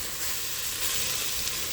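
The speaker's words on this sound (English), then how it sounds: "we will deglaze this with our stock" A hot pan sizzles loudly and steadily as stock is poured in to deglaze it, a continuous close hiss with no pauses.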